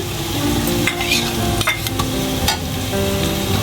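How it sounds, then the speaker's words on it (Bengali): Garlic paste is added to fried onions in a hot pan for a rohu fish curry with beans. It sizzles steadily and loudly up close, broken by a few scraping stirs of a spoon. "এবার দিয়ে দিব রসুন বাটা।"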